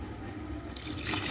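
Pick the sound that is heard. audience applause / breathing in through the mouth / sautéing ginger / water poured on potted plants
water poured on potted plants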